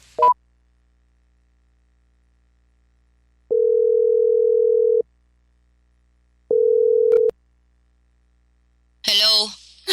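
Two steady ringback tones of an unanswered telephone call sound in near silence with long gaps between them, followed by a brief voice.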